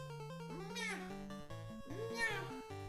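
A house cat meows over and over in rising, drawn-out cries, close and loud, with game music playing throughout.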